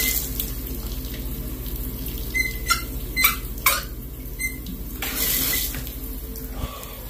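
A household faucet with no positive stops keeps leaking after being turned off. Water runs and splashes into a sink with a few squeaks and sharp drip-like taps, and there is no speech.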